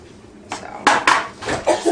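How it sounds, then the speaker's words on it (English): A spoon stirs crab meat in a bowl, giving a few short scraping clinks and knocks against the dish at close range over about two seconds. No one speaks. "With my new spoon, we're gonna stir in your crab meat."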